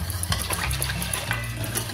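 Water being poured into a pot while making the tamarind water for papdi chaat, a steady gushing, splashing flow that is close and fairly loud, with no talk over it.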